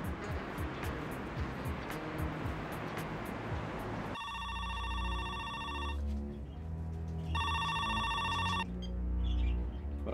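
An old telephone rings in repeated electronic bursts, two long rings separated by a pause, heard fairly clearly over a rumbling, noisy background in a Greek TV drama scene.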